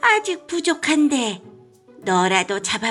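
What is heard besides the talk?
No distinct noise like a dog, phone or traffic.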